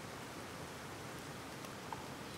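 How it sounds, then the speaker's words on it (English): Steady rain falls at a wild campsite as a soft, even hiss with no pauses, faint and diffuse, and nobody speaks. "And it is raining."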